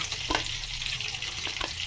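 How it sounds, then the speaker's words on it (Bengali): Fish pieces frying lightly in oil in a pan give a steady, soft close sizzle, with a couple of faint stirring touches over a brief stretch. "মাছটা সামান্য পরিমাণ ভাজা হয়ে গেছে, এখন আমি নামে নেব।"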